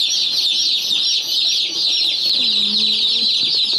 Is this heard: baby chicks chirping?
yes